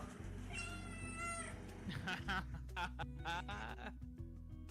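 A cat meows several times in short, whiny calls over a steady low hum and background music, fairly close.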